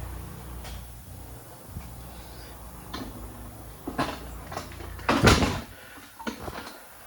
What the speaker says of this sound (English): we can compress our caliper using nothing but a screwdriver